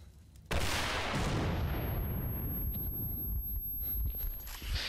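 Helicopter blowing up in the S.T.A.L.K.E.R. shooter game: a sudden loud blast after a quiet moment, then a long rumbling, crackling roar of burning wreckage, close and steady with no talk.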